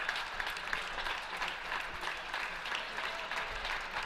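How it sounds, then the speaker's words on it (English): A squash crowd applauds after a match, a steady, sustained patter of clapping hands, moderately loud and without talk throughout. "these guys were getting a well-deserved ovation from this crowd"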